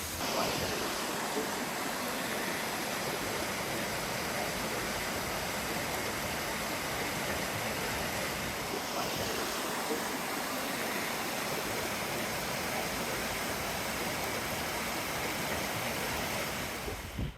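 A waterfall's bottom tier roars in a dense, steady broadband rush of falling water, loud and close, continuous without pause and with no voices.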